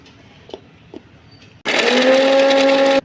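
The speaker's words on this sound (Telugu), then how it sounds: "ఇవి ఒక మిక్సీ జార్లో వేసుకొని పేస్ట్ చేసి పెట్టుకుందాం" A mixer grinder grinds green chillies into a coarse paste. After a quiet stretch with a few faint knocks, the motor starts abruptly and keeps up a loud, steady whirring roar to the end.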